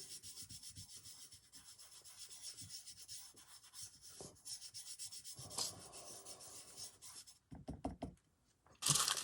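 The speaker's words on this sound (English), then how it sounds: "Burnishing this in with my finger." A fingertip burnishes polymer clay coal buttons onto a small clay snowman, giving a soft, close, steady rubbing that ends with a few light taps.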